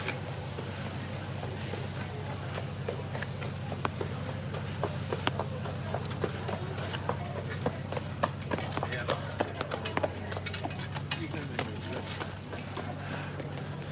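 Horse hooves clip-clop steadily along a street in Helen, Georgia at Christmastime, over a continuous low hum of traffic and outdoor background noise, with faint voices nearby.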